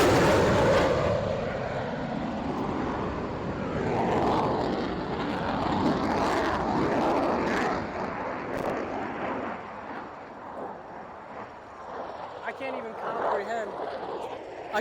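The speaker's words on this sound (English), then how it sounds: "There's a fighter jet doing an air show, so it might rupture my mic here" A fighter jet roars overhead during an air show near Sailfish Sands golf course, a loud, broad rushing roar that swells and then slowly fades while someone talks over it.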